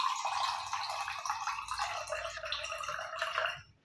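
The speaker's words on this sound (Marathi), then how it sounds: "थोडेसे पाणी या भांड्यामध्ये घेऊन घ्यायचे आहे।" Water poured into a cooking pot for a fasting kadhi, a steady splashing trickle that runs for several seconds and then stops abruptly.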